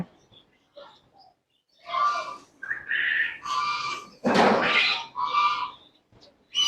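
Several peacocks, some with tails fanned, call near a house at the foot of a hill in Malaysia, giving a series of loud, harsh, nasal cries close by with short gaps between them.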